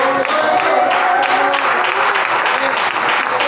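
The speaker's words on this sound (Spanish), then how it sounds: "Un aplauso al Señor" A church congregation breaks into loud, sustained clapping during a sermon, many hands patting steadily, with raised voices and musical tones faintly blended underneath.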